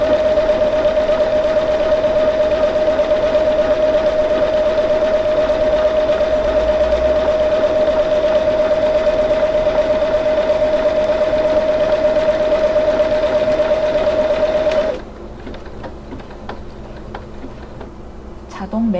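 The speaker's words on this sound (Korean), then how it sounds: "34번을 이용하여 새롭게 바느질 하여 줍니다." Lion The Style 50 home sewing machine sewing a patchwork pattern, a loud steady mechanical whir that runs unbroken for about fifteen seconds and then stops abruptly, leaving quiet handling noises behind.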